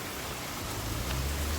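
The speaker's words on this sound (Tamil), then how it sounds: "இங்கே சத்தம் கேட்குது. என்னடான்னு பார்த்தா இங்கே பாருங்க, இதுக்குள்ளேயும் தண்ணி வந்துட்டு இருக்கு பாருங்களேன்." Rainwater running down from a mountain and flowing into a spot in the Seychelles makes a steady, close rushing hiss that stays even and unbroken throughout, with no talking.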